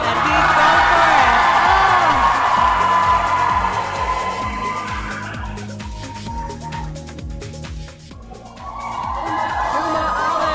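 A crowd cheers and whoops at an indoor climbing lead competition, loud and continuous, with a commentator talking over the noise.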